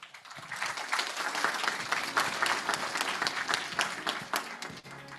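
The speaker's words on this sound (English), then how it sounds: "a warm round of applause for Dr. Lee" A conference audience gives a warm round of applause after a session talk on regulation technology, with dense, steady clapping filling the hall for several seconds before it tapers off.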